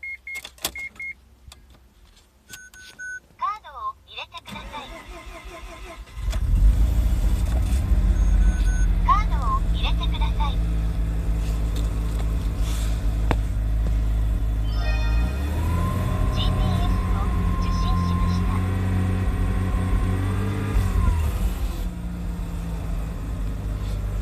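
A 1998 Mazda RX-7 rotary engine cranks and catches after a few seconds of quiet, then settles into a steady, loud idle that holds for the rest of the clip, with a slight shift in tone partway through.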